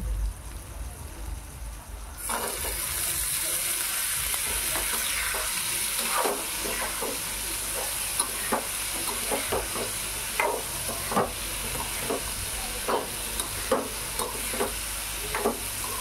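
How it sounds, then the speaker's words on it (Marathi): Bottle gourd pieces tipped into a hot pan with cooked tomato for a Konkan-style vegetable dish, then stirred; steady loud sizzle with repeated scraping stir strokes, no talk. "तर आता घालणार आहोत आपण दुधी"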